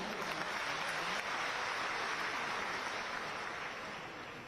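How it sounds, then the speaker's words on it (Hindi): Sustained audience applause at an industrial inauguration ceremony for PTC Industries, a dense steady wash of many hands clapping that fades slightly toward the end. "दमदार तालियां होनी चाहिए"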